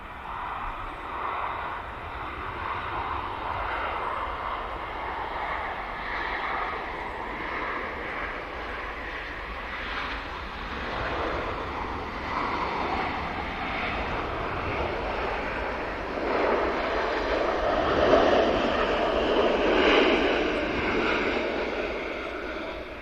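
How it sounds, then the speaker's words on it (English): A Dreamliner bound from Melbourne climbs out of Manchester Airport runway 23 left and banks right, its engines a sustained distant roar that ebbs and swells over time, with no voices. "The Dreamliner from Melbourne about to initiate the right hand bank turn out from 23 left."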